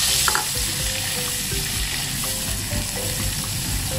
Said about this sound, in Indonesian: Tumis sampai wangi hingga warnanya berubah ke coklat-coklat, ke kuning emasan atau coklat